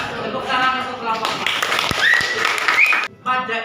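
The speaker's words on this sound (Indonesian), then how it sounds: "Tepuk tangan untuk kelompok." Classroom applause for a presenting group in an Indonesian teaching-practice lesson, a short burst of scattered clapping from students mixed with talking voices, ending abruptly.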